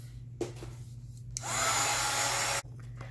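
A hair dryer blows on a mixed media collage, switching on with a steady loud whooshing roar that runs for about a second and a half before cutting off, over a low background hum.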